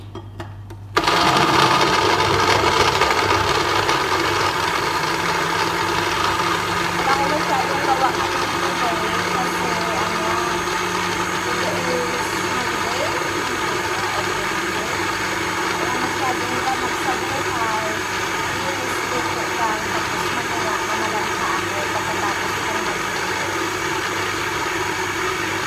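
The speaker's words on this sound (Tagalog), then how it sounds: "I-blend lang siya natin." A blender switches on and runs steadily, whirring loudly as it purées tomato for a soup broth, close up with a constant motor drone for over twenty seconds.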